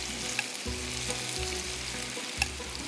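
Small kachki fish frying in mustard oil, a steady close crackling sizzle with faint stirring clicks and a low background hum throughout, no voices.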